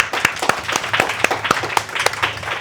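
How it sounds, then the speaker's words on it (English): Scattered audience applause at a talk on confidence and self-esteem, with distinct claps repeating at a quick, uneven rhythm, moderately loud and close. "A big round of applause for these kind of."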